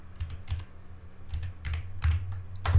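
Keys clacking on a computer keyboard while a short folder name is typed, a few quick close taps in uneven bursts over a low steady hum.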